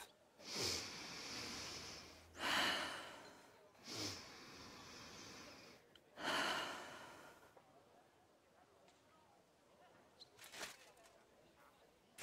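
A man in Kingdom Come: Deliverance II takes four deep, slow breaths, each a loud, airy rush separated by short pauses, followed by quieter ambience and a faint sniff.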